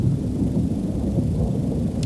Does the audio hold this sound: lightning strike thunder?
yes